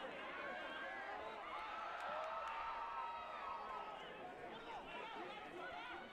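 A rugby stadium crowd at an Americas Rugby Championship match between Argentina Jaguars and Canada, heard as a steady, moderately distant roar of cheering and chatter. A commentator's voice sits on top of the crowd noise.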